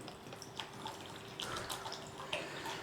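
Chickpeas for hummus are rinsed under running water, a quiet, steady tap stream with soft splashes and intermittent sloshing bursts.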